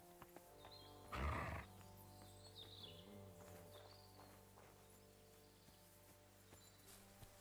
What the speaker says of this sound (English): Just heard a horse.